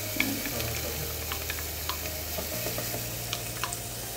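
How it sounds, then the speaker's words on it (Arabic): Onion drops into hot olive oil in a pan and sizzles steadily while being stirred, with soft scraping taps over a low continuous hiss, close and fairly quiet, for a Saudi-style spinach and meat stew. "نضيف البصل الحين."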